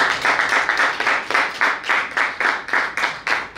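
Audience at a conference panel clapping in unison, a quick regular rhythmic pattern of group claps repeating roughly three to four times per second, close and fairly loud.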